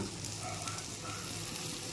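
Spice masala with coriander powder sizzles steadily in a hot pan, a close, even frying hiss throughout with no voices.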